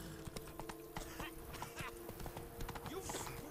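Horse hooves clip-clop at a steady trot in The Witcher 3: Blood and Wine, a run of sharp repeated strikes over busy game ambience, with a brief whinny near the end.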